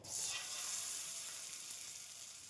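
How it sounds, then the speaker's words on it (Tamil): Masala-coated, salted fish laid on a hot dosa pan sizzles steadily and loudly up close, a continuous bright hiss with no voices. "நம்ம உப்பு மசாலா போட்ட மீனை வந்து அப்படியே தோசைக்கல்ல வைக்க போறோம்."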